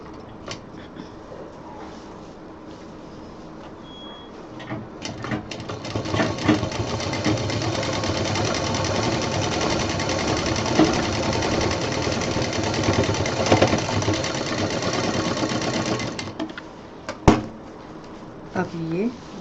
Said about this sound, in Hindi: अब इसको हमें बस साइड में उठा के मिला के सिल देना है।